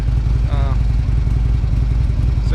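A 2016 Harley-Davidson Road Glide fitted with Cobra Race Pro slip-on pipes idles with a steady, deep, loping rumble close by, and a voice talks briefly over it.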